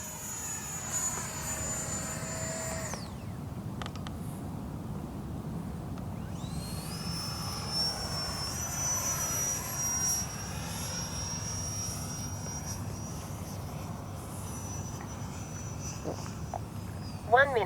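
An E-flite 64mm Viper RC electric ducted-fan jet flying, a continuous high whine that rises and falls in pitch as it climbs and passes, over steady outdoor background noise.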